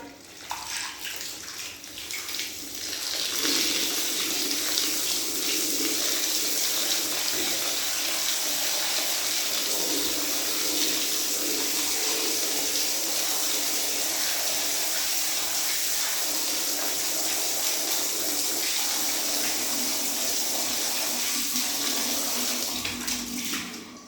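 Clean water runs steadily from a tap for a long stretch, splashing as a floor-mopping cloth is washed under the stream.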